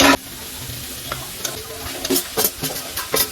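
Cooked chana dal is stirred with ghee and jaggery in a pan to make puran filling, giving a soft sizzle under repeated close scraping and stirring strokes in an uneven rhythm, with no talking.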